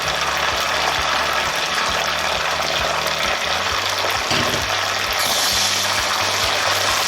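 Water is poured into hot semolina and sugar over a low flame while making Pakistani makhandi halwa, giving a loud, steady gushing hiss that runs for several seconds and swells near the end.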